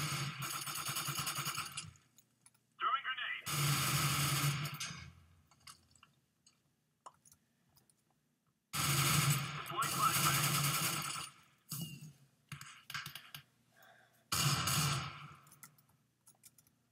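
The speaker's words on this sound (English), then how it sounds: "What is with the gunshots?" Gunfire in the Minecraft Minestrike shooter mod, heard as loud bursts of rapid automatic fire in several long volleys separated by shorter single cracks and pauses, with speech faintly present.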